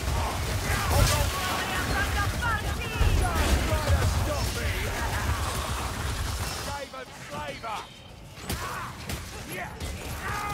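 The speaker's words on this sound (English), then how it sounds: "Warpstone shots coming in!" Warpstone shots in the Warhammer Vermintide video game come in as a busy barrage of crackling, rattling impacts and mechanical clatter, with battle noise dense for several seconds before thinning out and voices heard over the fray.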